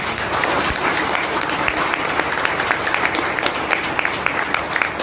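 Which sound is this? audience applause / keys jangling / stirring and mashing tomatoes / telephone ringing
audience applause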